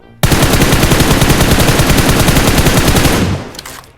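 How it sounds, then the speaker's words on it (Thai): Rapid automatic fire from an M4 rifle in PUBG Mobile, one loud sustained burst of evenly spaced shots lasting about three seconds, then a short fading tail. "เดี๋ยวผมยิงให้ดูอีกรอบนึงนะ"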